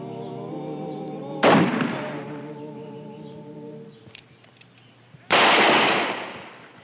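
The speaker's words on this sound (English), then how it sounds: "When I raise my gun, you start a firing." Two loud gunshots from a shotgun and pistol gunfight in a Western drama, each a sharp blast with a decaying tail, heard over a low sustained music bed.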